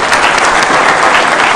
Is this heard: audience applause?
yes